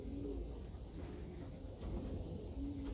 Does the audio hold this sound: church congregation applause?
no